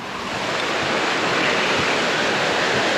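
Floodwater rushing down a creek into a coastal village during a November storm, a constant, loud, broadband roar of turbulent water with wind noise on the microphone and no voices.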